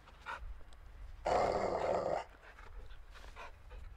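A large dog in the video game Call of Duty: MW2 lets out a loud, rough growling snarl lasting about a second, set against quieter in-game ambience and faint background noises before and after.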